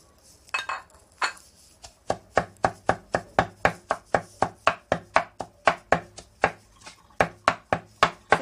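Tofu and carrot grated by hand: a close, even run of sharp rasping strokes at about two per second, preceded by a couple of softer scrapes, with no voices.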